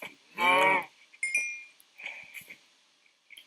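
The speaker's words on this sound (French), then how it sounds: "Oh, des vaches!" Cows mooing in a video game: one loud, drawn-out moo near the start, followed by fainter, shorter animal calls and light chiming sounds with quiet gaps between them.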